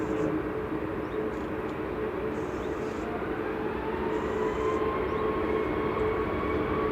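A TUI Boeing 737 Max 8 rolls down the runway at Manchester Airport on takeoff, a steady, broad jet roar that holds level and fairly distant for several seconds, with no voices.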